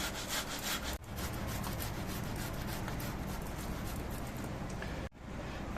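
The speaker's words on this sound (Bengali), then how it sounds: "এই ঘষনি দিয়ে ঘষে নিলে পরে আলুর মধ্যে কোনো দলা ভাব থাকে না" Boiled potatoes are rubbed against a hand grater in quick, repeated rasping strokes, close and steady, forming a rough scraping rhythm with brief pauses between passes.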